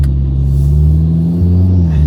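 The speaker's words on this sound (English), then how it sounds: "see what exhaust sounds like mainly, seeing as that's what we are reviewing" Custom valved exhaust on a 540 bhp VW Golf R idling warm, a loud steady deep rumble with low throbbing harmonics that holds close and constant throughout, no voices over it.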